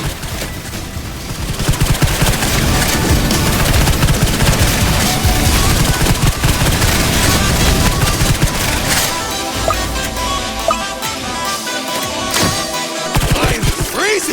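Dense, sustained rapid gunfire from the Roblox game Tower Defense Simulator rattles loudly and continuously for most of the stretch, then thins to scattered bursts toward the end.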